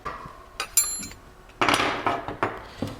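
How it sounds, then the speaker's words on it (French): Flat wrench tightening the locknut on an electric bike's wheel hub during a bearing ball replacement, giving several sharp metallic clinks and taps spread irregularly, close and fairly quiet, with no talking. "avec la clé plate, on va serrer le contre-écrou"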